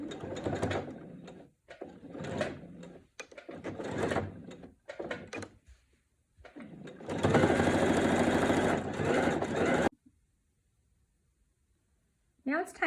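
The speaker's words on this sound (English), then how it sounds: "I'm going to continue sewing the binding" A person talks in bursts for several seconds, then a sewing machine stitching binding onto a quilt runs alone in a dense, rapid, steady whir for about three seconds before stopping.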